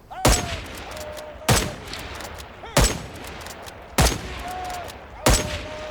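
Sniper rifle fire in Rising Storm 2 Vietnam, with the game reloading automatically between rounds: five loud, sharp shots at an even pace of about one every 1.2 seconds, each followed by a short ringing echo tail.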